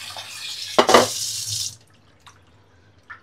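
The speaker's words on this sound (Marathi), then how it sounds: "चला फिश मस्त स्वच्छ अशी धुवून घेऊया." Bombil and halwa fish being rinsed clean under a running kitchen tap, a close steady gush of water splashing for about a second and a half, then a few faint drips and clinks, with no talking.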